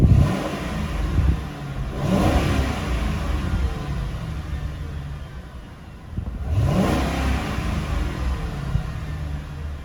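A 2011 Ford Crown Victoria with 102k miles idles with a steady low rumble, then revs twice in rising surges a few seconds apart, each settling back to idle, close and fairly loud with no talk.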